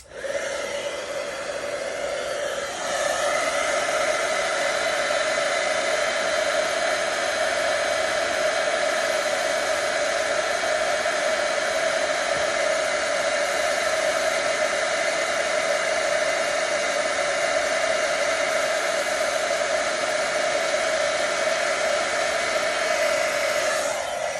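A heat gun melting embossing powder blows with a loud, steady whooshing roar, holding constant for over twenty seconds after a brief quieter start, with no voices.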